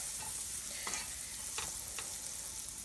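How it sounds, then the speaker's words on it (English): Butter melting in a pan that has been cooled slightly, making a steady soft sizzle with a few faint clinks of utensils against the pan. "Started melting my butter."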